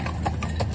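A stallion being driven in harness clip-clops along, several distinct hoof strikes spaced in a steady rhythm over a constant engine-like rumble, fairly near.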